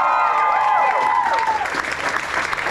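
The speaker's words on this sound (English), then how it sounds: "a round of applause please" Crowd applause at a small live music gig, dense clapping and a few cheers under fading sustained guitar tones, loud and close.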